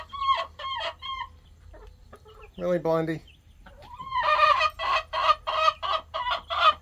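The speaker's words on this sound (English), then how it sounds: "Alright, Blondie's a pretty quiet chicken," Backyard hens in a coop, including a quiet one named Blondie, cluck in a rapid, repeated series of close, loud calls, with a brief drawn-out squawk midway and a short spoken remark among them.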